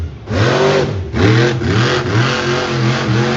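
A monster truck engine revs hard several times in quick succession at a monster truck show, the pitch climbing and dropping with each burst, close by and with no voices.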